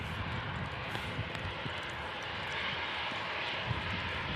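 Airliner jet engines at Manchester Airport, including a Lufthansa jet and a Virgin Atlantic A330, form a steady, distant roar that fills the whole clip without pauses or talk.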